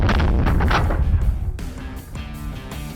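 A 50-caliber AK rifle fires one loud, booming shot close by, followed by a long rumbling decay and a fading ringing tail.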